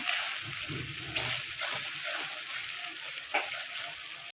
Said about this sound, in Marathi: कांदा आणि टमाटर ते पण चांगलं तेलामध्ये मस्त भाजलं गेलं पाहिजे तर आपण थोडंसं टमाटरला पण हालून घेऊया